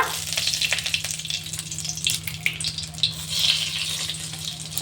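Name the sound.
bay leaf tempering sizzling in hot oil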